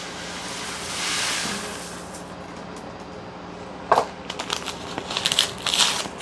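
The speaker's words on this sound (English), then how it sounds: "Rice-A-Roni going in." Dry Rice-A-Roni herb and butter rice and pasta poured into a pot, a soft rushing hiss of grains, then sharper scattered crackles and clatters as the pouring ends.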